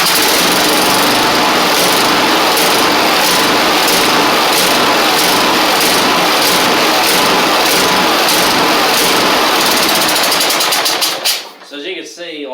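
A Husqvarna 54-inch zero turn mower with a Kohler engine, hard to start and kicking back, runs loud and rough with a rapid rhythmic chatter, then sputters and dies out near the end.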